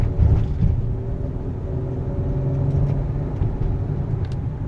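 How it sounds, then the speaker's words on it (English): Honda car driving and speeding up toward 30 mph, a steady low engine and road rumble heard from inside the cabin, continuous and moderately loud with no talk. "I'm going to go ahead and speed up to 30 miles an hour"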